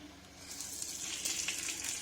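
Jeera, mustard seeds and curry leaves sputtering in about two tablespoons of hot oil for misal pav, a steady close sizzle with faint scattered pops and no talking.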